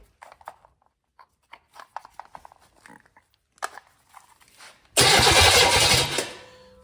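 A GMC Vortec engine fitted with a carburetor and point-style ignition cranks over: a few seconds of light clicks and rubbing, then a loud, steady whirring burst that fades at the end, with no firing.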